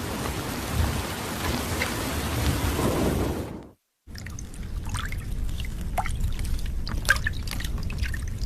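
Steady heavy rain pours down with rumbling thunder, breaking off into a moment of silence before the downpour resumes with sharp drips and distant cracks.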